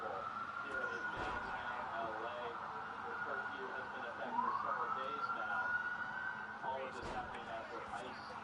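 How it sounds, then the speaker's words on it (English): Police sirens wail through the streets of downtown Los Angeles during a curfew amid protests, a steady high tone with a rising sweep midway, heard over constant city noise and talk. "The sirens very audible here in downtown LA."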